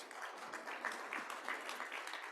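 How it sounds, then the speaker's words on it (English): A room of Kiwanis club members applauds General Pendleton on his 77th birthday, steady dense clapping that holds evenly throughout at moderate distance, with a murmur of voices beneath it. "Let's give him a round of applause"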